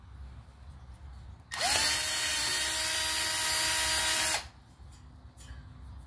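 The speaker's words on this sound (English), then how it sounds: "I'm going to drill a pilot hole first." A power drill bores a pilot hole in wood for a custom wide TV tray, one loud steady whine lasting about three seconds that starts and stops abruptly against quiet room noise.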